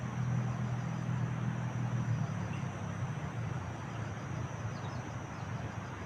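Motorcycles ride past on a mountainside above in a video game, a steady low engine drone that stays fairly loud and constant throughout without clear pass-by swells.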